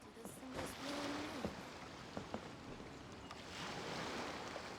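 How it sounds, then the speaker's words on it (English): Ocean waves wash steadily in Genshin Impact, a soft continuous surf with gusty swells, carrying a few faint tonal game sounds and clicks over it. "The sound of the ocean waves."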